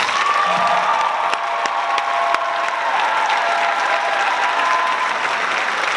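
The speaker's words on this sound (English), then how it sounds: "So please give them another round of applause." Audience applause at a FABRIC 2017 event, a dense, steady wash of many hands clapping that holds at full strength throughout, with faint crowd murmur beneath.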